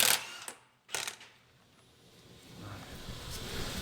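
Ratchet wrench working loose the pinion nut on a NewEdge Mustang during a T56 transmission swap, giving a few sharp clicks near the start, then quieter faint mechanical rasping and shop noise.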